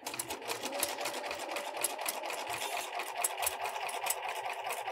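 Sewing machine stitching a quarter inch seam in fabric, a fast steady mechanical chatter with rapid rhythmic needle clicks, close and alone for several seconds.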